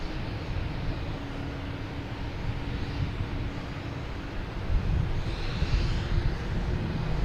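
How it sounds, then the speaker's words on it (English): A JetBlue airliner arriving at Boston Logan Airport, heard as a broad, steady jet engine roar from a distance that grows slightly louder toward the end, mixed with some wind noise on the microphone. "you got a JetBlue coming in from somewhere"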